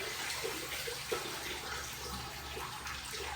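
A car-washing towel, folded into a square, is wrung out over a bucket of rinseless wash solution, giving steady close trickling and dripping water with soft splashes throughout.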